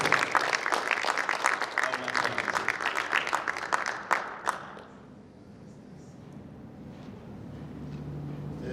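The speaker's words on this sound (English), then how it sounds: "Can you please give a round of applause to Mr. Kingdom Ngobese?" A youth leadership conference audience gives a speaker a round of applause: dense, loud clapping for about four seconds that cuts off abruptly, leaving quiet room noise with a faint low hum afterward.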